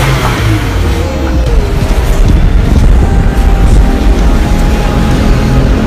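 Modified Mitsubishi Xpander with an active turbo revving up close, a loud steady engine roar with low rumble sustained throughout.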